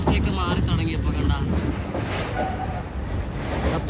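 A long-distance Aronai Express train creeps slowly over a bridge under repair, a low rumbling clatter of wheels heard from on board, with wind buffeting the microphone.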